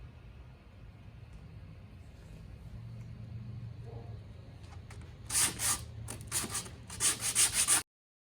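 End grain wooden cutting board being sanded with a Festool Rotex-style random orbital sander on 120 grit: a steady low buzzing hum, joined in the last few seconds by louder bursts of harsh scratchy rubbing as the pad bites the wood, no talk.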